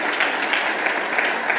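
A crowd at an Arduino community challenge event gives steady, dense applause for a competition winner, loud and continuous throughout with no voices.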